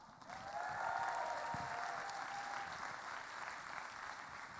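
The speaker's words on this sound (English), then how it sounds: "let's have a round of applause for our two main Illinois program sponsors for the Tech Challenge, Caterpillar and Omron" Audience in an arena at the Illinois FTC State Championship opening ceremonies clapping for sponsors, steady broad applause heard from a distance at low level, with a faint tonal sound briefly over it.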